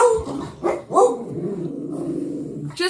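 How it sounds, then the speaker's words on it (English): Dogs bark at a person walking past, a few close, loud woofs in quick succession, followed by a low growling rumble and another sharp bark at the end. "just a minute, the dogs have something to say."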